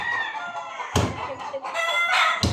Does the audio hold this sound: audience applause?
no